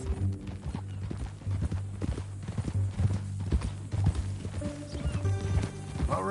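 Horse hooves clip-clopping in the Red Dead Redemption 2 video game, a steady mid-distance trotting rhythm throughout with a low droning tone underneath.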